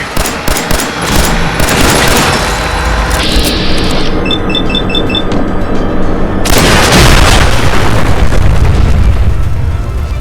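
Dense gunfire and heavy explosions from a post-apocalyptic shooter game, a loud continuous barrage of booms and rapid bursts, with a steady beeping tone partway through before the blasts resume.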